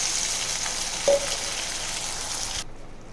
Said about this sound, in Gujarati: હવે આપણે તેમાં તૈયાર કરેલી ગ્રેવીને ઉમેરીશું.